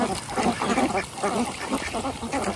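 Ducks eagerly eating small fish caught from a pond, with dense, continuous quacking from a close flock that overlaps without pause.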